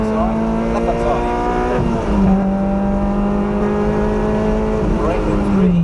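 A 2ZZ-engined car pulls hard at full power on the Donington race circuit, its loud, steady engine note holding close and continuous with a brief dip and climb as it runs through the gears.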